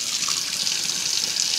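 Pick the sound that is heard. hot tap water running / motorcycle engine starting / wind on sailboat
hot tap water running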